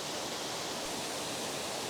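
A waterfall in Waterfall Country, South Wales, heard as a dense, steady roar of rushing water, loud and unbroken, with no other sounds over it.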